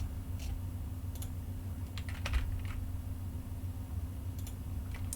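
Someone types on a computer keyboard while working on a rigging file, with short scattered bursts of light key clicks over a steady low room hum and no talking.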